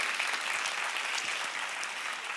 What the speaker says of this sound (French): Vous avez entendu, il y a Christiana qui applaudit.